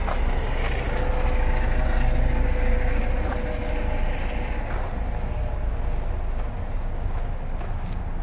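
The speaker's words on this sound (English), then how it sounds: "Oops, sorry, that helicopter overhead." A low, continuous rotor drone rumbles throughout at steady loudness, like a helicopter passing overhead, with faint city noise beneath.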